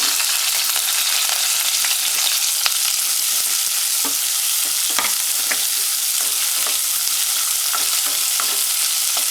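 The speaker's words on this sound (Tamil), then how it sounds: "ஒரு வெங்காயமும் ஒரு 2 பச்சை மிளகாவையும் நறுக்கி வச்சுருக்கேன், அதை போட்டுக்கலாம்" Chopped onion and green chili sizzle steadily in a hot pan, with occasional sharp crackles and the scrape of stirring.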